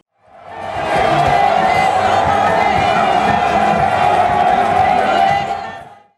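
Compact crowd of PCT party militants at a rally in the Niari department, cheering and shouting together in a dense, sustained roar that swells in, holds steady for several seconds, then fades.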